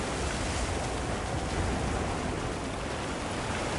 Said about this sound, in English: The rain's really coming down.